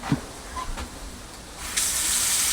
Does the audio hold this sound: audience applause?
no